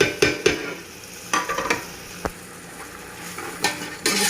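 Tomatoes fry with spices in a pan, a soft continuous sizzle broken by scraping stir strokes and light clinks of a utensil against the metal.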